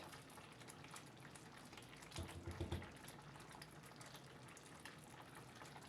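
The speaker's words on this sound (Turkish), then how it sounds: "Reçelim 20 dakikadır kaynıyor arkadaşlar." Thick apricot jam bubbles quietly in an unstirred pot, a soft continuous simmering hiss with a brief cluster of louder plops midway.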